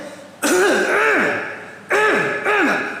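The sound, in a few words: coughing and throat clearing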